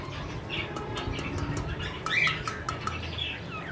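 A breeding pair of pet birds in a cage gives scattered squawks and short chirps, moderately near, over a faint background hum with no talking.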